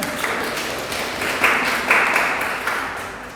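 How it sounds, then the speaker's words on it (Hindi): Students in a classroom clap for the second-ranked topper, a brief burst of scattered applause that swells and fades over a few seconds, close and moderately loud. "ताली तो बजा दो, सेकंड टॉपर है।"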